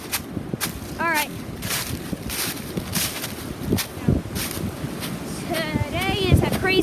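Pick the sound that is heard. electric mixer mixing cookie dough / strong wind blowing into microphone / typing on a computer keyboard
strong wind blowing into microphone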